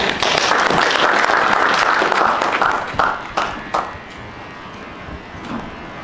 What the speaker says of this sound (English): A round of applause for the workshop.